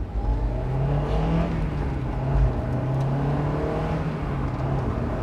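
A Honda S2000 AP1's 2-liter VTEC four-cylinder, a 9,000 RPM engine, drones steadily up close with a slight rise and fall in pitch, running alone with no talk.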